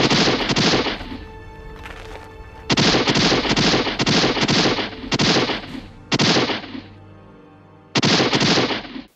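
Loud, close gunfire effects from the action movie Double Down come in rapid automatic bursts, several separate volleys of dense cracking shots with short gaps between them. No one speaks.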